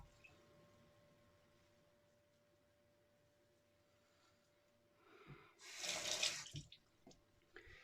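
Cold tap water runs briefly to wet a Yaqi Blue safety razor, a close splashing rush lasting about two seconds after near-silence, with faint handling noise before and after.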